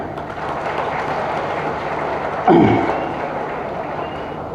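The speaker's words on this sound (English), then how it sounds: "for which we are all thankful to him with a big applaud" Audience applause fills a college auditorium during a speech at an NRI college event, a steady wash of many hands clapping throughout with a brief louder burst near the end.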